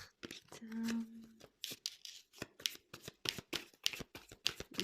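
Tarot cards riffled and drawn from a deck in a quick run of crisp papery flicks and slides, close by, with a brief low hum near the start and a quiet voice speaking in between.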